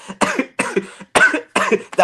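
A run of loud, close harsh coughs, four or five bursts in quick succession with brief pauses between them.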